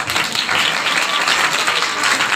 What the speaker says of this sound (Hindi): भाई के लिए तालियां।